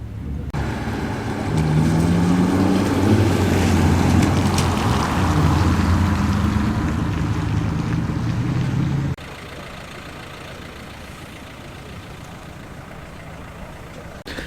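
Two Volvo V70 T5 five-cylinder estate cars lapping a wet Oulton Park circuit during a trackday. Their engines drone steadily and loudly for about nine seconds, then the sound drops to a quieter, more distant rumble for the rest of the clip.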